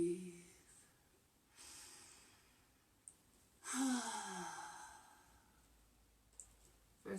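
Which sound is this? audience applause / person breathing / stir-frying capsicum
person breathing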